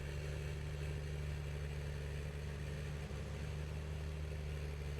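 A 300-horsepower tractor labouring up a slope in Farming Simulator, its engine giving a steady, low droning hum with a constant tonal whine, fairly quiet and unbroken, with no voices.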